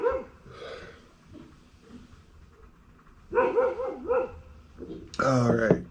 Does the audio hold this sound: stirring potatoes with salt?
no